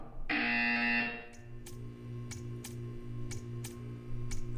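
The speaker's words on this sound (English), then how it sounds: "You will hear a buzzer." A loud electronic buzzer tone sounds for about a second in Portal 2, followed by a steady low hum with a series of short evenly spaced ticks.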